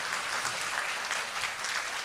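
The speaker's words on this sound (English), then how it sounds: "Let's give them a big round of applause" A youth stakeholder session audience in Johannesburg claps for Bafana Bafana, a dense, even wash of applause heard fairly faintly throughout the short stretch, with no voices over it.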